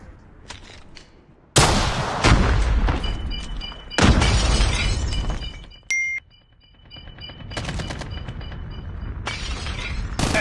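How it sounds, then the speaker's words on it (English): Explosions and gunfire from a Call of Duty Mobile match, with a grenade blast among them: several loud, sharp bursts that each ring out briefly, separated by quieter stretches of game noise. "Grenade out!"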